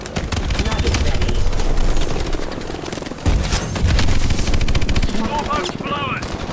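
Sustained machine-gun fire rattles loudly and almost without pause through a video game battle, with heavy bursts, booming impacts and brief lulls.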